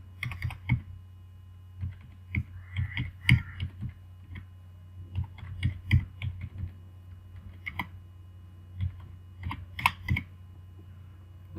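Prices being typed into an Excel spreadsheet on a computer keyboard: a steady run of close, crisp key clicks in irregular bursts, with brief pauses between entries and no voices.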